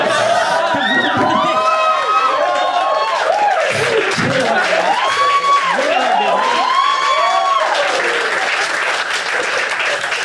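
A stand-up comedy club crowd cheers, whoops and shrieks loudly and continuously, with high excited shouts and some applause under the roar.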